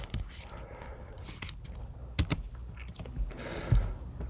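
Computer keyboard typed on while setting up a Python environment: a handful of close, crisp keystroke clicks over a steady background hum, with no voice.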